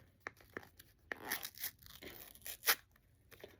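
A snack package, part of a junk food box, is torn open up close with several short ripping and crinkling bursts, the loudest near the end, in a quiet room.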